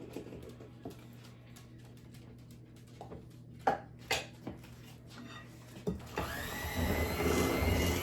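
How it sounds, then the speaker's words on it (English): Faint clinks of a bowl and utensils give way to an electric hand mixer switching on, its loud, steady whirring drone filling the last couple of seconds. "if your hand mixer starts to give you trouble"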